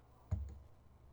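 A single soft mouse click on a software save button, close and brief, followed by quiet room tone.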